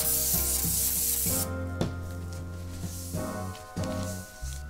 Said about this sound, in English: Just spray on, wipe off.